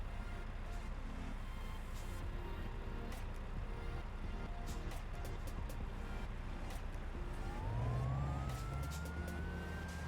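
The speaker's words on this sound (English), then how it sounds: "hearing some siren, I don't know where it's from." Emergency vehicle siren on an official convoy route, rising near the end of a busy street recording over steady traffic and crowd noise, moderately loud amid the background.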